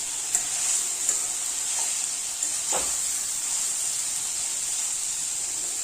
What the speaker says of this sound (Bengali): একটু লাইট ফ্রাই করে নিলাম।